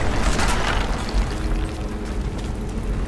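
A thrown fire bottle bursts into flames in the video game Rise of the Tomb Raider, a loud, dense roaring whoosh of ignition that keeps up steadily close by with no talk over it.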